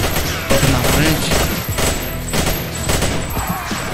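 Rapid, continuous gunfire in the video game Xonotic, with dense overlapping automatic shots and bursts rattling loudly through the whole stretch.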